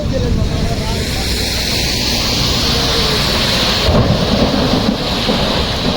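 A heavy downpour with thunder roars loudly and continuously, the dense rain hiss blending with deep rolling rumbles that swell slightly near the end.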